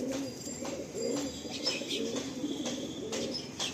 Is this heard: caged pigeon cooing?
yes